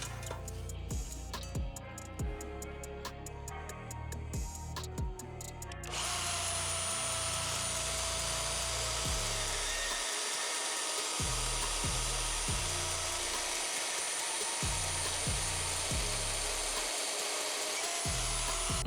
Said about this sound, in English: I'll just cut this in half and have one for either end